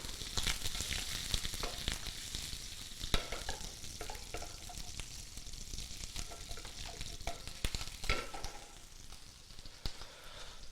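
Shrimp and scallops sear briefly in a hot pan for a dish with orange butter, giving a continuous close sizzle and crackle broken by sharp scraping stirs, with no talking.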